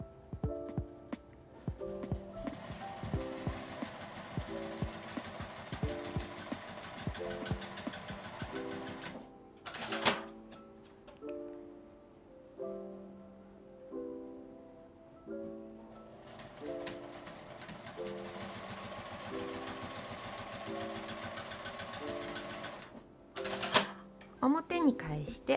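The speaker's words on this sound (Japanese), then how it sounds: "返し口を開けて1センチの縫い代で横に縫います。" A sewing machine stitches the side seam of a fabric glasses case, running in repeated rapid mechanical bursts with brief pauses between them, close and steady.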